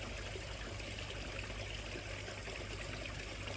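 Water trickles steadily and evenly into a garden pond as it is topped back up, a continuous close-by flow with no breaks or talk over it.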